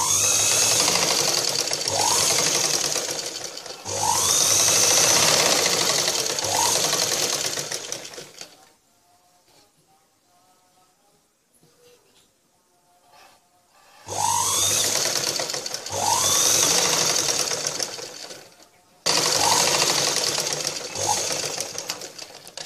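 A sewing machine stitches a blouse sleeve in loud, fast whirring bursts of several seconds each, with a long quiet gap in the middle holding faint handling sounds.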